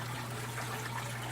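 Pump in a cheap saltwater aquarium pushing water up, a continuous soft trickling and bubbling wash with a steady low hum underneath, even and close, no talking.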